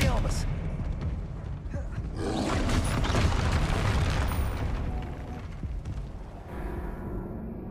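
A booming, whooshing spell blast from Hogwarts Legacy swells and crackles over several seconds, with a voice shouting under the effect.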